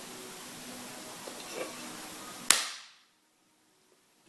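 A jukbi bamboo clapper is struck once during a Buddhist dharma talk, giving a single sharp, loud crack after a quiet room tone, followed by a brief decay into near silence.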